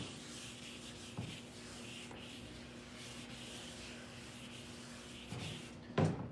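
A car headlight lens is sanded with an 800 grit disc, producing a soft, steady rubbing scrape at low volume with a couple of brief bumps and a louder knock near the end.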